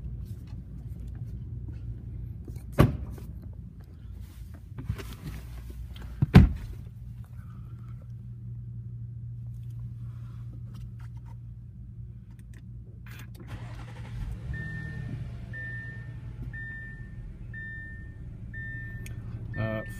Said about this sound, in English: I'm gonna go ahead and start it up for you, so that you can see and hear